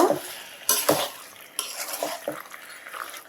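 Spiced beef tripe being stirred in a frying pan for a bhuna, with repeated scraping strokes of a utensil against the metal pan over a low sizzle, close and fairly loud with no talking.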